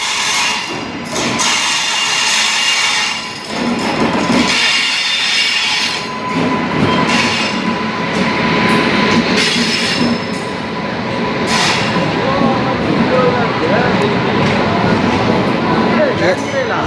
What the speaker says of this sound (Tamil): நமக்கான ட்ரெயின் வந்து அடைஞ்சிச்சுங்க